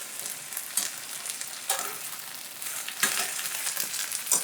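Steaks frying in a little oil in a pan, a steady close sizzle with crackling bursts and a few louder spits, no voices.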